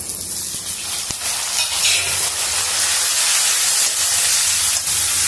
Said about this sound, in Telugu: ఈ ఉల్లిపాయల్ని వేగనిద్దాము. ఉల్లిపాయలు బాగా వేగిపోయినాయి. ఇప్పుడు టమోటా ముక్కలను కూడా వేసేద్దాము.